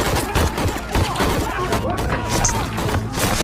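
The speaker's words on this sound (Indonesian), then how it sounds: "sudah ada kelompok si penculik yang menunggu, yang langsung menembak Santiago CS" Burst of gunfire in a film scene as a kidnapping gang waiting in an alley opens fire, loud rapid shots layered with dense action-movie sound and background effects, continuous through the whole stretch.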